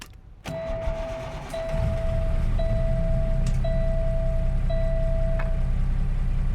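A Cummins ISX truck engine in a Kenworth in American Truck Simulator cranks and fires up, then settles into a loud, steady, deep idle, with a repeating electronic chime sounding over it.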